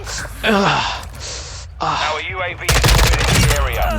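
Gunfire in Call of Duty: Modern Warfare II multiplayer breaks out as a loud, rapid automatic burst in the last second and a half, following a stretch of excited talking over quieter game sounds.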